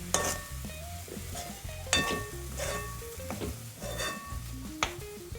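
Chopped vegetables seasoned with salt and chili powder sizzle in a pan while a spoon stirs and scrapes against the metal, producing steady frying hiss punctuated by clinks.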